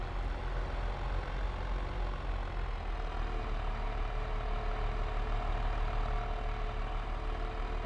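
A tractor engine idling in a farming simulation game, a steady low droning rumble that holds evenly throughout at moderate level, with no talking.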